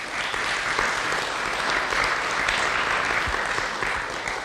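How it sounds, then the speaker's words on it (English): A crowd at a training event gives a sustained round of applause for policy and advocacy trainees, steady dense clapping from many hands that carries evenly throughout. "I want to give them another big round of applause."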